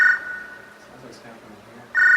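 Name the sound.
telephone ringing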